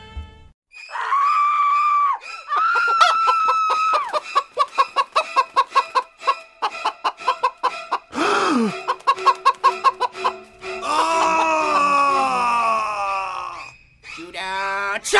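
A rubbery bird-like chicken creature squawks, clucks and screams in loud, rapid bursts, with choppy staccato clucks in the middle and long strained cries, mixed with groaning vocal sounds.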